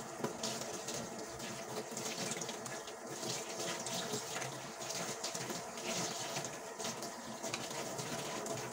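Tap water runs steadily into a sink while spring onions are washed, a continuous soft splashing flow with faint handling noises and no talking.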